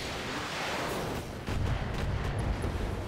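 Heavy booming cannon fire from a galleon in the video game Flashpoint, a dense rumbling barrage that swells louder midway and keeps rolling, with no voices.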